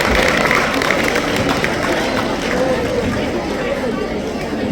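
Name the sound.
audience applause at school seminar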